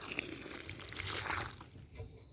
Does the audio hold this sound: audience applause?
no